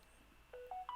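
A phone gives three short electronic beeps in quick succession, each rising slightly in pitch, fairly faint against a quiet background.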